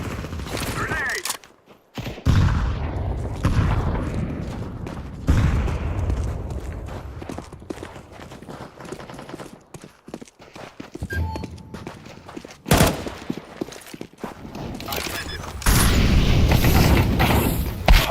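Grenade explosions and gunfire in PUBG come through as a long mix of dull booms, mechanical clicks and scattered shots, with loud bursts near the start, middle and end, separated by brief lulls.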